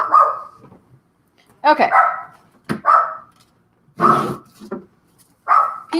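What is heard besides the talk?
Chihuahua barking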